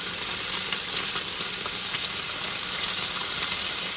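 Bacon sizzles and crackles steadily in a frying pan, a dense, even hiss with scattered small pops throughout, close and unbroken with no talking.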